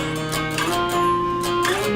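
Over two seconds, an electric guitar plays a short octave run leading into the chorus of a song, with bright sustained notes that shift upward, loud and close.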